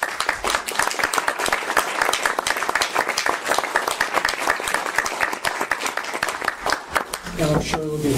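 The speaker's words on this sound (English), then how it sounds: "let's give them a round of applause." A class audience applauds together at an energy knowledge-sharing session, dense steady clapping filling the room for several seconds before fading toward the end as a voice begins.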